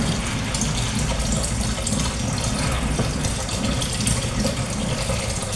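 Water runs continuously from a tap while something is washed, a steady, close splashing gush that holds at an even level from start to finish with no voices.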